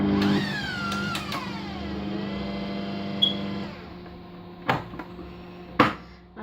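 A cake batter mixing machine whirs with a steady tonal hum that rises and then winds down, followed by a few sharp clunks as it stops and the bowl is handled.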